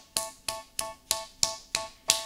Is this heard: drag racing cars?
no